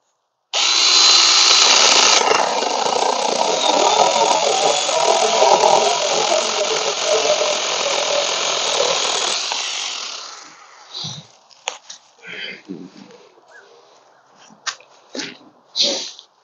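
A Tomyvic 6-inch battery-powered mini chainsaw cuts through wood, a loud, steady high-pitched whine for about ten seconds that then stops, followed by scattered knocks and handling sounds.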